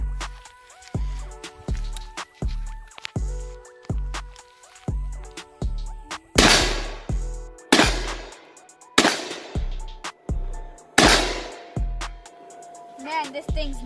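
An assembled AR rifle is test-fired in a steady string of about a dozen loud, close shots with regular spacing and short ringing decays, a few louder reports landing near the end.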